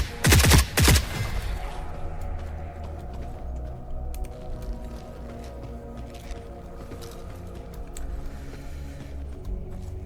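Gunfire in the video game The Forever Winter, a sharp cluster of loud shots at the start followed by fainter scattered distant shots over a low rumbling game ambience.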